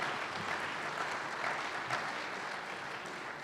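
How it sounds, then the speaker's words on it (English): An audience gives a sustained round of applause for a program's presenters, even and unbroken from start to finish with no speech over it. "Let's give all our presenters, from Dr. Robbins all the way through, a well-deserved round of applause"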